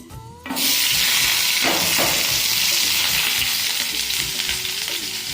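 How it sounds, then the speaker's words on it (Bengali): Food fries in oil in a frying pan, a loud steady sizzle that bursts in after a brief quiet start and continues close by without talk, with faint stirring underneath. "ফ্রাই প্যানে তেল দিয়ে দিচ্ছি"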